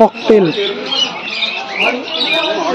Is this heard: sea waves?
no